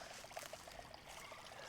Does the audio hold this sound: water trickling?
yes